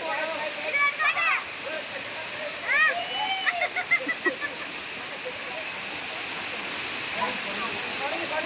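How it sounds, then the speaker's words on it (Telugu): Talakona waterfall pours down in a steady, broad rushing roar that carries through the whole stretch, with excited voices calling out over it in the first few seconds. "water flow"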